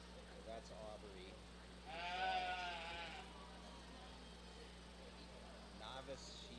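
A sheep bleats once, loud and wavering for about a second, during a novice sheep showmanship class at a county fair, over steady indoor hum and murmuring voices.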